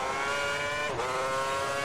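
Formula One racing cars at Monza in the video game F1 2010 give a loud, sustained high-pitched engine whine, with a brief dip and pitch drop partway through as the engine shifts, then steady again.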